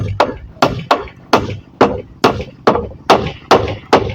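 Steady hammer blows driving nails into wood while building a bathroom, about ten sharp, loud, close strikes at an even rhythm of roughly two per second.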